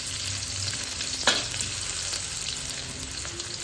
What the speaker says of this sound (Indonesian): ini kita gongseng-gongseng sampai sedikit layu dan wangi